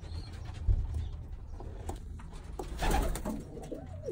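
Young Birmingham Roller pigeons, squeakers on the loft floor, give soft, low coos that repeat over steady faint background rustle and hum, close by and fairly quiet.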